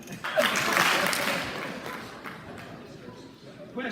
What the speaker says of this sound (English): 2 claps for that